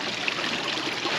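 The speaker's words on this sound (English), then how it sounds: "We're moving lots of water. And even if I didn't have that in the middle, this would be a really cool fountain" Water from a backyard pond fountain splashes and runs steadily as a soft, even broadband wash with no voices.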